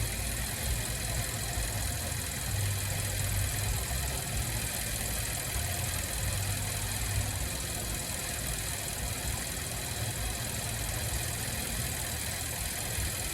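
A steady, low Chevrolet Camaro SS engine idle drones on throughout during an AC recharge, with a constant rumble and broadband hiss, no voices, level and unchanging.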